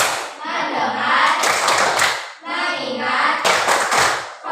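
A class of children in a classroom performs a rhythmic focus clap, with short bursts of group clapping alternating with chanted voices, close and lively.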